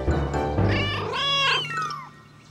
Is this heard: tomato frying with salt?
no